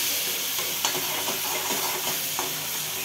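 Garlic paste and dried coconut paste sautéed in oil in a pan on a gas stove for a freshwater fish curry, giving a steady close sizzle broken by scattered scraping stir clicks.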